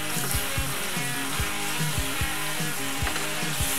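Flour cooking into a roux in a frying pan for chicken fried steak, with a steady close sizzle and a regular rhythmic scraping of a utensil stirring across the pan, loud and continuous with no speech.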